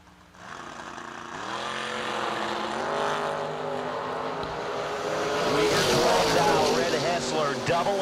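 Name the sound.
1969 Camaro and S10 drag racing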